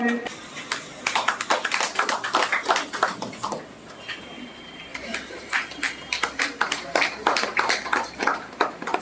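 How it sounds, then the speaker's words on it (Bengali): Students clap at a school welcome ceremony for new eleventh-grade pupils, with scattered, uneven rounds of applause in bursts while voices talk over and between them. "একটু হাততালি দেবেন প্লিজ"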